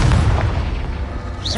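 An explosive Confringo spell blast in the wizarding game Hogwarts Legacy, a loud close deep boom with rumbling low-end that decays over a second, ending with a brief higher whoosh.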